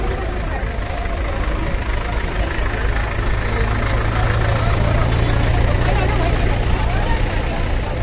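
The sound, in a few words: tractor engines idling at farmers' tractor parade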